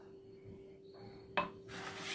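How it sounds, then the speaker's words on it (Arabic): Dry ingredients for harcha mixed with oil in a bowl, a quiet scene with a single sharp clink of utensil against the bowl followed by soft rustling, stirring noise. "نخلطو النواشف مزيان مزيان، نزيدو نص كاس ديال الزيت"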